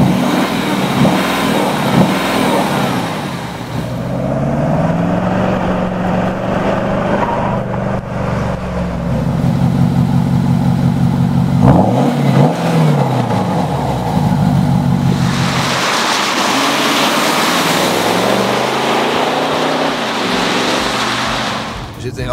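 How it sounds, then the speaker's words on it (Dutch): Porsche Cayenne S Diesel V8 engine revving up and down close by, with rising and falling engine tones and a smoother steady stretch in the middle, with a louder rev burst near the end. "Ik heb nog nooit een diesel gehoord die zo goed klinkt als deze auto."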